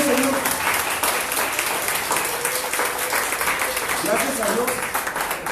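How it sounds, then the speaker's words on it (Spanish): Church congregation applause during a Spanish-language sermon, a loud, sustained roar of clapping across the hall with a voice speaking faintly underneath. "Dale fuerte el aplauso, Señor."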